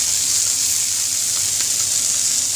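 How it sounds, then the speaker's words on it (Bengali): Koi fish from a village pond frying in a pan, a steady, loud hiss of hot oil sizzling continuously up close, with no voices. "মাছটা ভাজা করিয়া"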